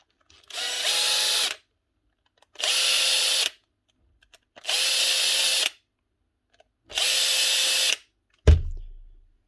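Four separate bursts of a cordless power drill whirring as it backs out screws from another cordless drill's gearbox, each about a second long with short pauses between, close and loud, followed by a dull thud at the end.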